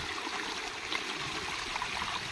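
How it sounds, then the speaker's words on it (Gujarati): Fresh water pours straight into a clay pot in a village, a continuous splashing, gurgling rush, fairly close and steady across the short moment. "સીધું સીધું ભાઈ પાણી ગોરામાં જાય છે"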